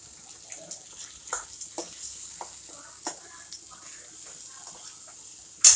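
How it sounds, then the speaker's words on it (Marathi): Washed cowpeas fry in oil in a pan, giving a soft sizzle punctuated by scattered pops and stirring scrapes, fairly quiet and close, with a louder clatter at the very end. "ही चांगली तेलात तळून घेऊ"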